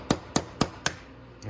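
Hammer tapping a tight part into the clutch of a Venom 125cc: four crisp, evenly spaced taps in quick succession, close and fairly loud, then a brief faint knock.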